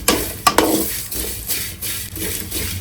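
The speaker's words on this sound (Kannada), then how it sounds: "ಎಷ್ಟು ಚೆನ್ನಾಗಿ ನೋಡಿ ರೋಸ್ಟ್ ಆಗಿದೆ" Sliced bitter gourd sizzles and roasts in a pan while being stirred, with several sharp scrapes and clinks of a spatula against the metal over a soft frying hiss, close and unaccompanied by talk.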